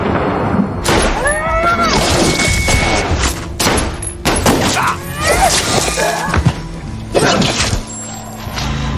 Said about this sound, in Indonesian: Dan terjadilah adu tembak jarak dekat.